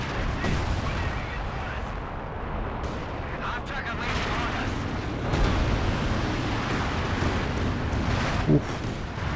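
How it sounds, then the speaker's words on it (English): A Werfer rocket artillery barrage in a Company of Heroes 2 battle, a dense rumble of launches and explosions going on continuously beneath other gunfire, loud and sustained. "Another Werfer barrage almost takes down that maximum for good."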